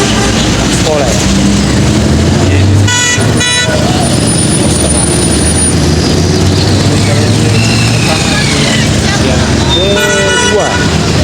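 A tour bus passing on the road, loud traffic rumble with several sharp horn toots around the middle and near the end, voices audible over the engine noise.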